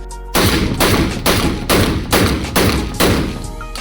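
An MK12 rifle fires about seven loud, close shots in quick succession, each a sharp blast followed by a short decay, at a steady rhythm.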